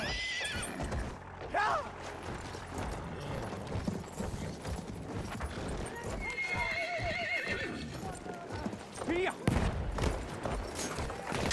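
A horse gallops and neighs in the Battlefield 1 multiplayer game, with drumming hooves and several shrill whinnies amid battlefield gunfire, while voices shout at intervals.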